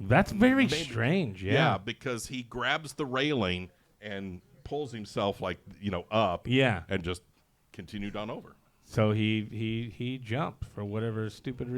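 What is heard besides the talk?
No everyday noises stand out.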